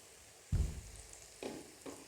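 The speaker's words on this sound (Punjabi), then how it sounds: "ਦੋ ਮਿੰਟ ਇਹਨੂੰ ਭੁੰਨਣ ਤੋਂ ਬਾਅਦ ਅਸੀਂ ਇਹਦੇ ਵਿੱਚ ਗ੍ਰਾਈਂਡ ਕੀਤੇ ਹੋਏ ਮਸਾਲੇ ਸ਼ਾਮਿਲ ਕਰ ਦਿੰਦੇ ਹਾਂ" Onion roasts in a pan with ground spices for a Punjabi-style onion chutney, giving a soft sizzle that flares as ingredients drop in and the pan is stirred, with three distinct bursts and no talking.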